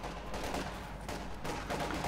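Light machine gun fire in the real-time strategy game Company of Heroes 2, sustained rattling bursts of automatic fire with brief breaks, loud and dense amid battlefield noise.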